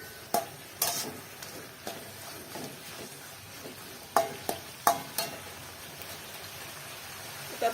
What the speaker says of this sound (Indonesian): Lalu kaldu bubuk sedikit. Lalu kita tumis.